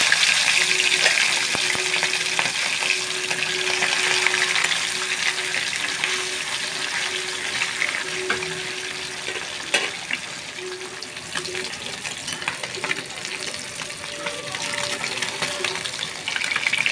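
Potatoes and pointed gourd fry in a pan with a steady, dense sizzle and crackle, close and even, with a few faint clinks of stirring and no talk.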